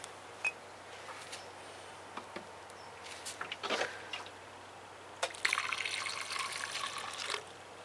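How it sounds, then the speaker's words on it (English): Water is poured into a homemade wicking container on an allotment, arriving in short splashes and trickles and then a steadier run of filling water near the end, close and fairly quiet with no talk. "I'll put a bit more water in, see if the overflow works properly."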